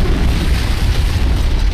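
An antimatter charge explodes aboard a ship in the video game Halo: Combat Evolved, a loud, dense, sustained roar of rumbling noise that fills the short moment without a break.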